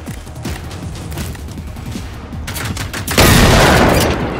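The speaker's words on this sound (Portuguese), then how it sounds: "a munição da escopeta espalha, né? Essa que eu tô usando." Shotgun blasts aimed at a robot tank in the game Generation Zero, a string of loud close booms and gunfire building into a heavier roaring burst toward the end.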